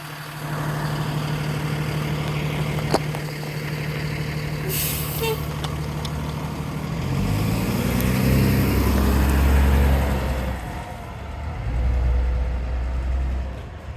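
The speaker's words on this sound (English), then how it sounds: "All right, engine 1 is departing, it looks like." A fire engine pulls away from a medical call on Clark Street in Burlington with a steady idling rumble, then deeper engine revving builds as it departs, accompanied by brief hisses of air brakes, all fairly close.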